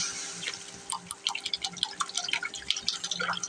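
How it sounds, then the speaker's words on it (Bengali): Water poured into onions and spices sautéing in a pan for a Qurbani beef liver bhuna, giving a close run of crackling, dripping and bubbling pops with no talk. "এখন পানি দিয়ে ভালো করে কষাবো।"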